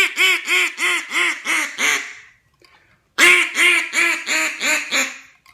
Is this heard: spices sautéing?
no